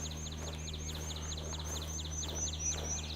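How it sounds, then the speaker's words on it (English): Bird calls from theHunter: Call of the Wild, with pheasant and grouse in the setting: repeated short high chirps at a steady rhythm over a constant low hum, moderately faint and heard alone. "There's a bird right there."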